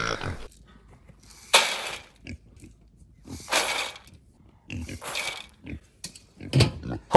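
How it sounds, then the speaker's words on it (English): Farm pigs oinking and grunting in bursts before their morning feeding, close by, with a person speaking between the animal sounds. "Good morning, pigs."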